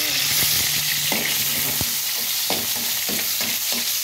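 Garlic sizzles in hot oil in a pan while making a Filipino sarciado sauce, a steady crackling fry broken by several short clanks and scrapes of a utensil stirring, close and alone.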